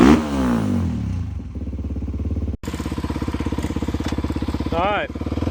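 A Paladin 300 motorcycle with a decatted exhaust revs close by, the loud engine dropping to a fast, steady rhythmic idle after a brief cut, then rising again in a quick rev near the end.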